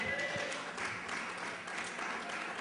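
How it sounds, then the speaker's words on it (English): Applause from a debate audience is faint and distant, a soft, even patter of many hands clapping that continues for a few seconds. "feel free to give a lot of applause"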